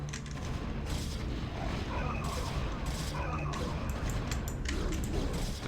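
Cannons firing in the StarCraft Enslavers 2 campaign: a dense, continuous barrage of booming shots and crashing impacts that layer into a steady, loud roar of battle.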